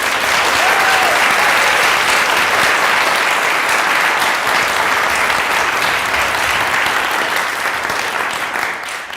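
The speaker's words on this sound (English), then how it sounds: "So let's give one more round of applause." Sustained, loud audience applause from a crowd at a school poetry event, steady dense clapping throughout that fades slightly toward the end.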